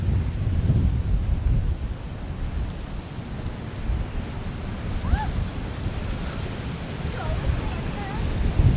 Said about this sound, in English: The wind's straight to my face.